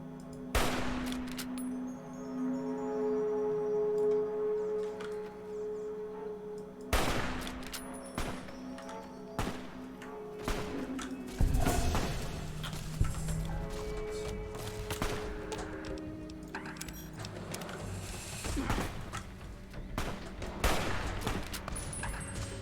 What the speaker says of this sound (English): let's give my hunting rifle a try then